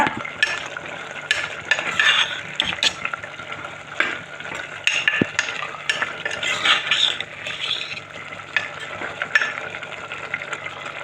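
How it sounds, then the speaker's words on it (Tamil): Mutton frying in a pot is stirred with a utensil, continuous scraping and clinking over a steady sizzle, close and fairly loud, with no one talking. "இப்போ நம்ம திறந்து கிண்டி விடுவோம்"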